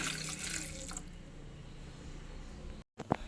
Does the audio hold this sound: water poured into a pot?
yes